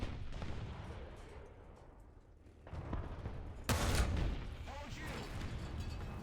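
A tank under enemy fire in War Thunder, with rumbling engine and repeated gunfire and shell impacts, a sharp loud hit landing midway among continuous battle noise, while someone talks over it.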